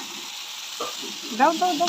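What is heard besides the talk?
onion garlic paste frying in a pan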